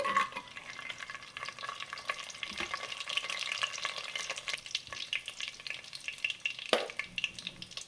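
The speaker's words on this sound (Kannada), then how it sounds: "ಇಷ್ಟನ್ನು ಬಿಸಿಯಲ್ಲಿ ಸ್ವಲ್ಪ ಫ್ರೈ ಆಗಬೇಕು." Bay leaf, star anise, cloves and cumin crackle in hot oil for a drumstick pulao, a faint but steady frying hiss with small pops throughout and a few scraping stirs of the pan.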